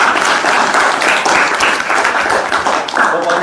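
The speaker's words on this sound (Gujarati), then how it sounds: "આ બેનને એકવાર તાળીથી વધાવી છે" Audience applause welcoming a woman storyteller, steady close clapping from a room full of people, loud and unbroken for a few seconds.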